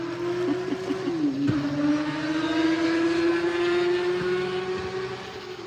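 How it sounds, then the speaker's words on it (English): A motorcycle engine drones steadily at close range, its pitch dipping briefly before holding a sustained, slightly rising hum. "That's a motorcycle."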